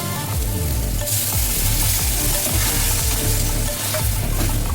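Chicken for dhaba-style chicken bharta keeps up a loud, dense sizzle in the frying pan as the boiling water it was cooked in is poured in, the hiss brightening sharply about a second in and staying steady, with no voices.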